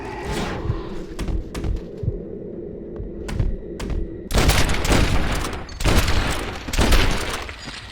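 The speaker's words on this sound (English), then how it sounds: "I'll keep shooting." Gunfire in Red Dead Redemption: Undead Nightmare: scattered single shots early, then a heavy burst of rapid, loud volleys that continue in waves, with no talking.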